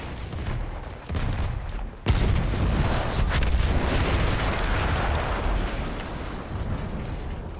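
A bombing explosion in the video game Battlefield 1, a sharp blast followed by a heavy rolling rumble that stays loud and sustained, with a few earlier cracks before it.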